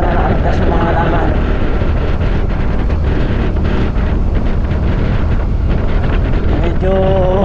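Strong wind blasts the microphone outdoors on a farm after a storm, a loud, steady roaring rumble that runs through the whole clip with no letup.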